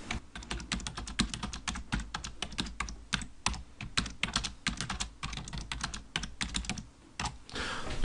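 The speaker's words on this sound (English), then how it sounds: "So I'm just going to type in the lyrics here." Rapid, steady typing on a computer keyboard as song lyrics are entered into a chord sheet editor, with close, crisp key clicks in uneven bursts and a brief pause near the end.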